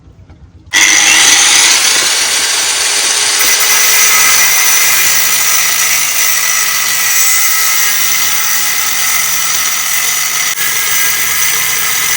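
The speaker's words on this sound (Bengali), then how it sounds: "আমাদের কাজ হচ্ছে এই মেশিন দিয়ে সব পুরনো নাট বোল কেটে দেওয়া" A power tool cuts through old nuts and bolts during a repair, starting abruptly and holding a loud, steady, high-pitched grinding whine for about eleven seconds, close and continuous with no speech.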